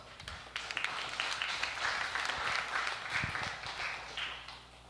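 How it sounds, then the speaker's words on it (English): An audience at an intergenerational church service day claps in applause, a dense, steady round lasting several seconds with no talking over it. "Can we give Uncle Bruce a round of applause"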